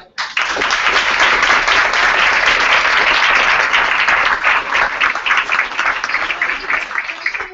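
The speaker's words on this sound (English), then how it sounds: "They organized and hosted this event, so I just want to clap for you." Audience at an Alpha Phi Alpha and Peace Corps MOU signing ceremony applauding the event organizers, a dense, steady burst of many hands clapping that holds loud for about seven seconds before thinning slightly at the end.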